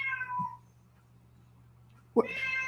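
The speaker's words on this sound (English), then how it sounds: "I have no idea where in the house the cat is, but the microphone is picking her up." A cat meows from another room somewhere in the house, giving two drawn-out, somewhat muffled cries separated by a quiet pause.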